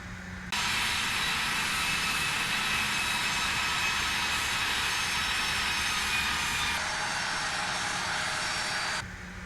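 A CRJ regional jet taxiing toward a runway hold point in Microsoft Flight Simulator 2024 gives a steady, even engine whine with a high hiss. It is constant and moderately loud with no voices, and the level shifts slightly partway through.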